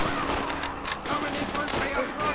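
MG-42 machine gun fire in a dark World War II battle in Call of Duty: World at War, rattling bursts of shots under loud, dense battle noise, with talk over it.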